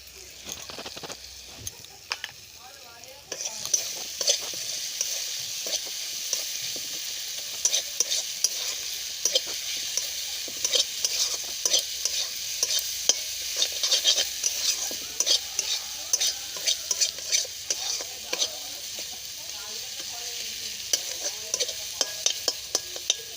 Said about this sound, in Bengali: এবার আমি একটু নেড়ে চেড়ে নেব।